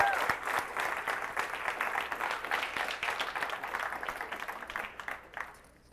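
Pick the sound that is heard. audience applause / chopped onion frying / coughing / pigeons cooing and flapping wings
audience applause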